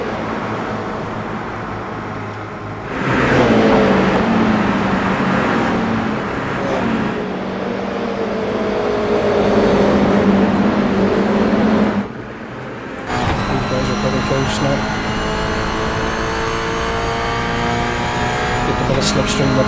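Toyota GR86 race cars lap Barber Motorsport Park, loud engines droning and shifting pitch as they slipstream up the pit straight, with a commentator talking over the racing throughout.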